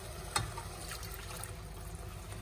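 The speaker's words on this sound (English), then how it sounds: "And then I put water in the can to removing all inside." Water poured into an empty tomato can while cooking ratatouille, a steady, close running fill with a faint splashy trickle throughout and one small clink near the start.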